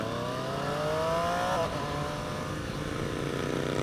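A 2018 Triumph Street Triple RS motorcycle engine pulls steadily under load, and a quick-shifter gear change cuts in partway through, breaking the rising tone before the drone carries on in the next gear.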